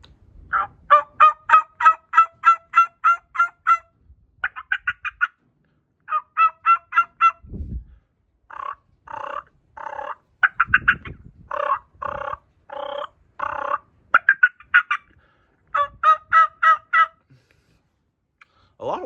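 A hand-held turkey call imitating turkey sounds, played outdoors during practice before turkey season: long runs of rapid, evenly spaced yelps and clucks in bursts, loud and close, with brief pauses between series.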